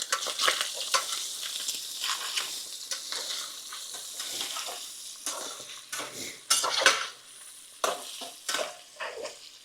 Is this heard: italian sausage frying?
yes